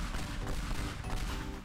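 Pipe bombs go off in the destruction game Teardown, a dense crackling barrage of overlapping blasts that runs unbroken and loud through the whole stretch.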